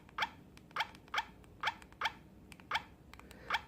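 Keys pressed on a QMobile Tubelight phone keypad while typing a text message, giving about eight crisp, evenly spaced clicks close by, each a short sharp tap, with no talking.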